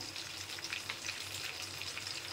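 Prawns frying in a pan for a bhuna masala, giving a steady, close hiss and crackle of hot oil with no pauses.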